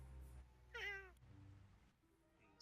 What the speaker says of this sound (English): We have a cat coming up.